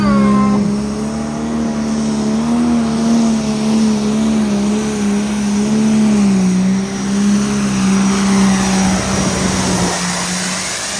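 A high-horsepower pulling tractor in the limited edition class at an ECI truck and tractor pull in Springville, Iowa roars loudly and steadily for a long run, its engine droning with wavering pitch and no break.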